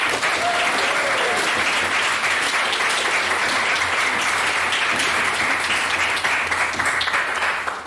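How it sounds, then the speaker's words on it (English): An audience at a debate breaks into loud, sustained applause, a thick, continuous roar of clapping heard close for the whole stretch, with voices briefly audible underneath. "Let's take a bit from another round of applause"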